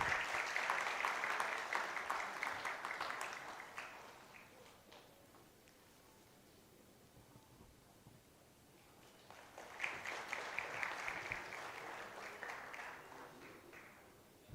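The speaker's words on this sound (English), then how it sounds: "Can we all together have a round of applause, please?" Audience applause at a wildlife conservation and management conference award ceremony, a steady wash of clapping that dies down to a quiet lull midway, then swells again into a second round of applause.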